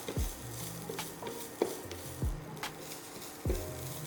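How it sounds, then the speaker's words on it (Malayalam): Grated coconut roasting in a little coconut oil in a pan, stirred with a spoon: a soft, steady sizzle broken by a few sharp scrapes and taps of the spoon against the pan, close and fairly quiet. "തേങ്ങയും ചെറിയ ഉള്ളിയും കറിവേപ്പിലയും നമുക്ക് ആദ്യം നന്നായിട്ടൊന്ന് വറുത്തെടുക്കാം."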